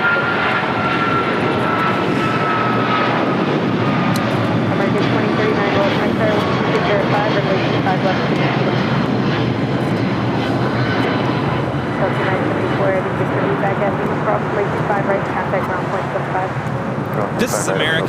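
An American Airlines Boeing 777-200ER jet takes off, its engines a loud, sustained broadband roar that holds steady throughout with a faint whine riding on top.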